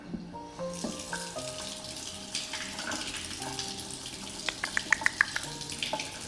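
Water runs from a tap to rinse sprouts in a mason jar, a steady close splashing that ends in a few sharp clinks and taps of the jar.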